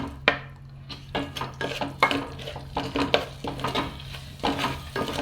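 Goan vinegar masala roasting in a pan, with repeated scraping and clinking of a utensil against the pan over a faint sizzle, close and irregular, no voices.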